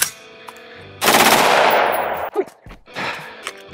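An AR-15 rifle with a nitride-treated barrel rips off a loud, sustained full-auto burst lasting over a second, then falls quiet, followed by a few scattered mechanical clanks and noises close by.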